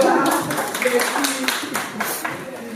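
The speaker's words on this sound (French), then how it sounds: "donc on peut l'applaudir" Guests at a court wedding in France give a short burst of clapping, with crisp, uneven claps close by and people talking over them.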